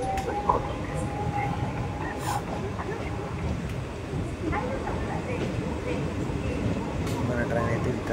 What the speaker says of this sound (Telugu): మన ట్రైన్ అయితే 72 kilometers కంప్లీట్ చేసిన తర్వాత అయితే వికారాబాద్ జంక్షన్కి అయితే వచ్చిందన్నమాట